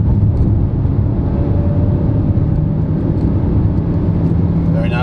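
A 2022 Renault Arkana Hybrid accelerates hard on kick-down, its engine a steady, loud low drone with road and tyre roar that holds throughout, while a person talks over it.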